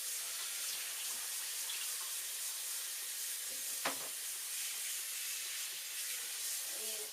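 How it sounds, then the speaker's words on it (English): A kitchen sink tap runs water over raw pork chops in a rinse, a steady close hiss of flowing water with faint clinks, no talking. "here we go to the sink. We're going to empty out, add a little bit of water to that."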